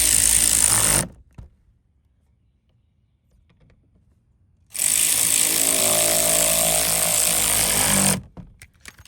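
Power tool tightening small 8mm fasteners on a Mazda CX-5, loud whirring bursts about three and a half seconds long each, separated by a quiet gap, no talking.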